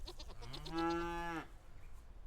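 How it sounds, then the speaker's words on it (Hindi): A single drawn-out cow moo rises and falls on a farm, loud and close, with quiet ambient noise before and after it. "गाय और बकरियों को चारा देता"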